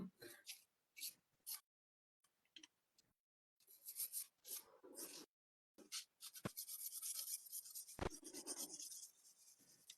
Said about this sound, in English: I'm very easily filing it. It feels very soft under the file.